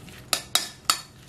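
Seasoned oyster mushroom namul with garlic, salt and anchovy sauce tossed in a bowl, three crisp clinks of a utensil against the dish in quick succession, close and clear.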